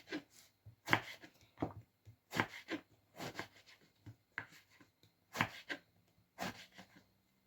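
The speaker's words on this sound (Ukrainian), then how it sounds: "І баклажанчик теж я буду нарізати соломкою" A knife slicing an eggplant into thin strips on a board: a quiet, irregular series of short crisp chops and scrapes, close by with no voices.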